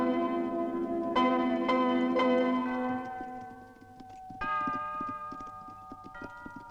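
Horses' hooves clip-clop in a western film, a steady run of soft knocks beneath ringing, bell-like tones that fade and then return.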